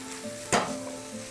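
Sausage and peppers in a pan give a low sizzle broken by one quick, loud stirring scrape near the middle.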